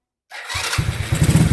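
A Honda Super Cup C70 motorcycle engine cranks and catches, then settles into a steady, throbbing run that grows slightly louder near the end.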